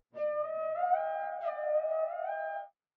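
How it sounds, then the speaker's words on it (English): A single sustained dry piano note rings out for a few seconds, bright harmonics decaying slowly, then stops cleanly; no voices. "this is just a little one shot from the piano"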